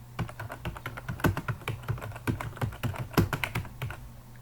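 Rapid keystrokes clatter on a computer keyboard while C++ code is entered, a series of close, crisp clicks in irregular bursts with a faint steady hum beneath.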